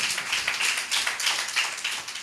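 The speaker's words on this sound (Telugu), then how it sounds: "ఒక్కసారి చప్పట్లు కొట్టి దేవుని నామాన్ని మహిమ తెచ్చుకోండి" A congregation at a Sunday church service claps together, a dense, steady patter of many hands sustained throughout without pause.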